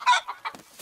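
Cartoon hen clucking inside a barn on a rainy day, a few short, close, moderately loud clucks in quick succession with no talk over them.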